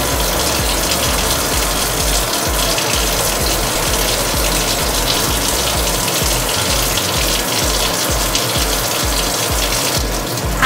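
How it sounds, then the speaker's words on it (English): Tap water runs steadily and loudly into a scrub sink for a surgical hand wash, a continuous close gushing stream with no pauses. "Turn the water on and perform the initial hand wash."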